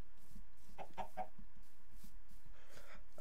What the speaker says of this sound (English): that chicken.